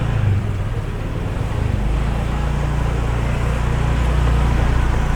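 A car drives steadily along a street near Kuta Beach after a storm, its low engine and road rumble continuous and fairly loud with wind-like broadband noise, no talking.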